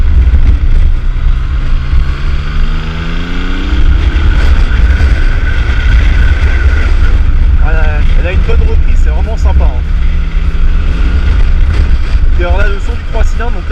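Yamaha MT-09 Tracer motorcycle with a full MIV exhaust system and baffle, a loud constant engine drone with rising and falling pitch under heavy wind noise while riding, with talk over it.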